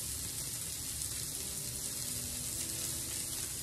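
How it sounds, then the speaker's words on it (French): Homemade burger patties cook in sesame oil in a pan, making a soft, even hiss that holds steady throughout without speech. "Donc on prépare la cuisson dans l'huile de sésame pour donner ce goût asiatique"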